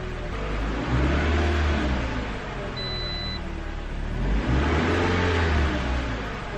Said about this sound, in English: See that when we raise the RPM and then we drop it, it goes right down.